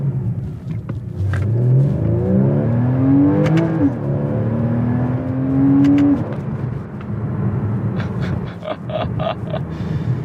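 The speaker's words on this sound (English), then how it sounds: "I do notice when you get up there in the higher RPMs and shift, it does create a bit of a kind of sound." A Porsche Boxster engine revs up through the gears on a canyon drive, its note climbing steadily and then dropping at each upshift, heard twice in close cabin perspective with no talk.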